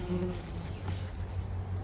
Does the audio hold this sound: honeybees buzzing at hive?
yes